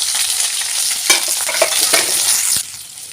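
Onion and curry leaves dropped into hot oil with browned chickpeas in a pan, a loud close sizzle with a few spoon scrapes and knocks as they are stirred, easing off near the end.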